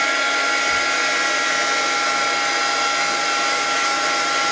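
Hair dryer blowing on paper to dry an image transfer, a loud steady broadband whoosh held close and unbroken throughout, with no speech.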